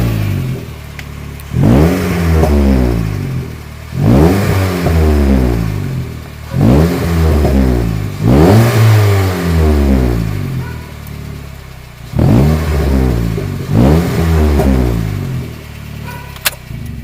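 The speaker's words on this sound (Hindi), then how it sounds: "एक बार साउंड सुन लो लास्ट टाइम गाड़ी की।" Skoda car engine on a highway, revved hard in six or seven repeated bursts, each pitch sweep climbing then dropping as gears shift, loud and close with no talk.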